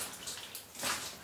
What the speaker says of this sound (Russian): Тут слышно, как капает вода.